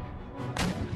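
A single artillery shot booms in the video game Empire: Total War, one sharp heavy blast rising over a low rumbling battlefield background.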